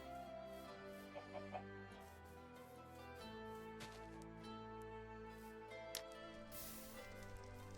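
A chicken in the Minecraft video game clucks in short, scattered bursts over steady game music and ambient tones, fairly quiet in the mix.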